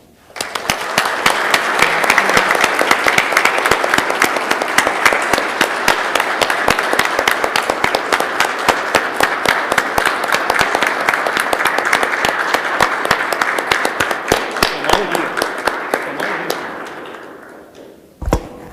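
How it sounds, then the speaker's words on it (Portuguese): Audience at a plenary tribunal session clapping in sustained, dense applause for nearly twenty seconds, loud and even throughout before fading at the close, with no talk over it. "Vamos dar ao vivo uma salva de palmas para todas as mulheres desse tribunal."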